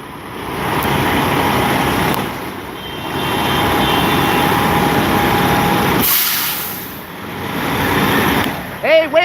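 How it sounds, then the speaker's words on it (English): A long line of logging trucks and big rigs idles at an Oregon protest, giving a steady, loud diesel rumble with a brief hiss like an air brake and a few faint beeps near the end. "So I hope you can see that this line of trucks goes on for a really long time."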